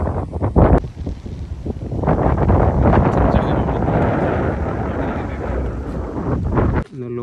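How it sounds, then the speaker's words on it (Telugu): Strong wind buffets the microphone at the edge of the Medak Fort hilltop, roaring and gusting loudly close up for several seconds before cutting off abruptly near the end. "గాలి చూడవచ్చు చాలా బాగా వస్తుంది"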